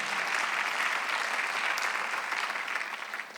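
A church congregation applauds at a Sunday worship service, a steady dense wash of many hands clapping together at moderate volume, holding for the whole stretch and easing off slightly at the end.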